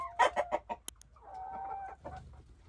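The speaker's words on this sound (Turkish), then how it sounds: "Horozlar, tavuklar, ne yapıyorsunuz bakalım" Chickens and roosters in a village cluck in a quick series of short calls, followed by a longer drawn-out hen cackle and a final low squawk, close by.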